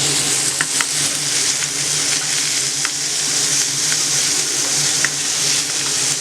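Tomato rice masala with beans sautéing in a pan over medium heat, with a continuous loud sizzle and occasional stirring clicks and scrapes, no voices.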